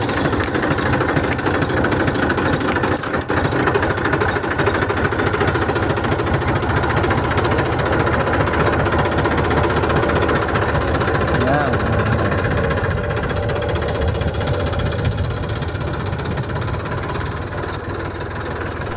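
A tractor engine runs steadily throughout, a continuous loud mechanical drone with a faint knocking pulse, while people talk over it.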